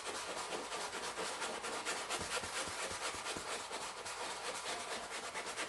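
Steady dry rubbing of wax worked by hand into painted upholstery fabric, a continuous close scuffing texture with faint repeated strokes throughout.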